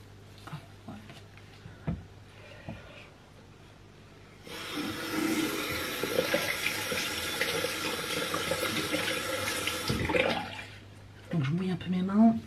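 Tap water runs steadily into a sink for several seconds while hands are wetted beneath it, close and fairly loud, bracketed by quieter handling noises and a brief voice near the end.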